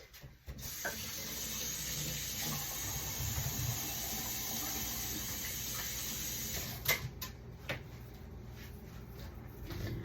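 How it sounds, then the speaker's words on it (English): Tap water runs steadily while hands are washed at a kitchen sink during meatloaf dinner prep, a continuous close hiss for about ten seconds with a couple of brief clatters near the end. "Gonna wash my hands."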